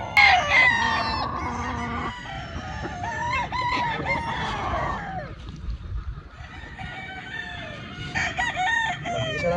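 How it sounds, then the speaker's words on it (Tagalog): A Sanino White cross Sweater gamefowl rooster crows repeatedly, loud and close, its long calls overlapping with clucking from other farm chickens. "Napakagandang Sanino White cross sa 5K sweater mga busing."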